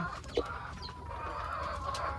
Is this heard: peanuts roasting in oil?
no